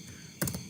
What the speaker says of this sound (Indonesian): Saya tekan tombol tab di keyboard, tab di keyboard.